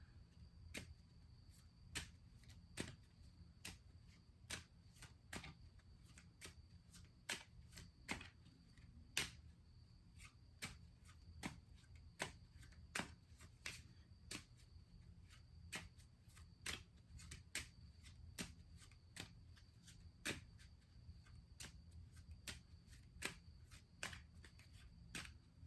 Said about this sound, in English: I'm just poor shuffling all over the place.